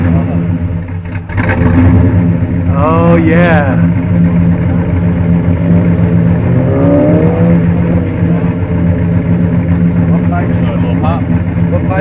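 A modified 1952 Chevy pickup with its engine revving loudly up close, the exhaust rising and falling in rough bursts over a steady idle, with people talking and reacting nearby.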